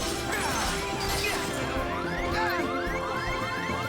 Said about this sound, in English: They're freaking just smashing their bodies against mine.